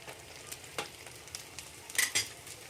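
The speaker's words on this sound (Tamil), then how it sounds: "கேப்சிகம், கேரட் இதெல்லாம் போட்டு ஒரு 2 நிமிஷம் நல்லா வதக்கி விடுங்க." Green chillies, onion, cabbage, capsicum and carrot stir-fried in a pan for egg schezwan fried rice, with a few soft spatula scrapes and faint sizzling over a low background, no talk.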